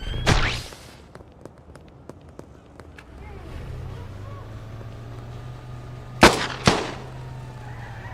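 Police open fire in a video game with a few sharp, close shots near the start and another loud pair later, over a steady low engine drone. A voice talks in between.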